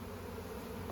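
Honey bees buzz inside an opened hive during a split, forming a dense, continuous hum that is close and steady with no voices.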